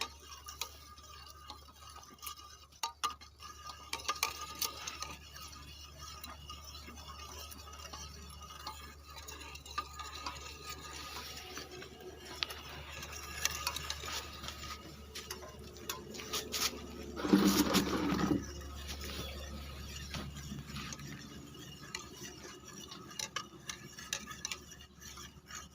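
Mercury being ground with juice in a kharal stone mortar: a faint, continuous scraping and ticking of the pestle circling the bowl, soft and close, with a slightly louder rough patch partway through and no talking.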